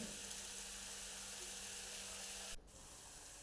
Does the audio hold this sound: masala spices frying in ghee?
yes